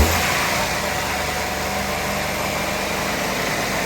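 A 2016 Maruti Suzuki Celerio VXI automatic's petrol engine runs and is raced lightly, giving a steady, close, moderately loud engine hum that holds even throughout without clear rev peaks and with no talking.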